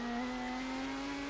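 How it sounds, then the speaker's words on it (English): A race car in a racing video game accelerates out of corners as a steady, loud, high-pitched engine drone that holds at a constant pitch, heard alone over a brief stretch. "Alperen's planted the throttle out of the last two corners to maximize his exit down the straight"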